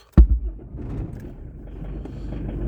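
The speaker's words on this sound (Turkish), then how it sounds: "Öncelikle kontağımızı takıyoruz arkadaşlar. Marşa basıyoruz." A car engine cranks with a sharp starter burst, then catches and settles into a steady, close low idle rumble.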